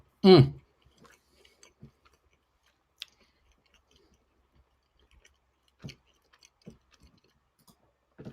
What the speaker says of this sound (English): I'm just a guy watching a guy chew on a microphone.